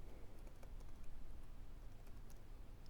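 Quiet, rapid keyboard typing on a computer, a steady patter of soft key clicks with a few slightly sharper taps, heard close up with no other sounds.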